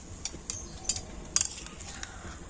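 Grated coconut and sugarcane jaggery are stirred in a wok, a spoon clinking and scraping against the metal in light, irregular taps over a faint background, with no talking.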